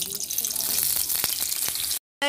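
Chopped beans and carrots sizzle in white oil in a wok, with a dense crackling hiss and occasional stirring clinks before a sudden drop to silence and a brief sound at the end.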